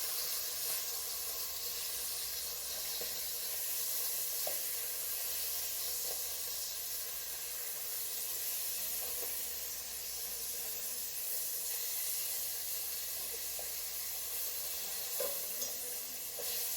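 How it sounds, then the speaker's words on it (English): Bacon sizzles steadily in a frying pan, a continuous bright crackling hiss with occasional small pops, nearby and alone with no talking. "while that bacon is cooking"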